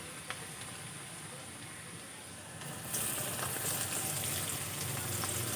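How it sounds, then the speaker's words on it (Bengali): Chopped garlic and onion sizzle steadily in hot oil in a home kitchen pan, the frying hiss growing noticeably louder and fuller partway through as the onion goes in, with no voices. "রসুন কুচিটা হালকা করে ভেজে নেব। দিয়ে দেবো পেঁয়াজ কুচি।"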